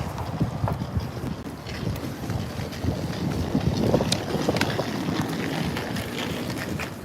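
Wind buffets the microphone in gusty rumbling bursts at a citadel fortress overlooking a city in Canada, with scattered clattering knocks and outdoor noise throughout.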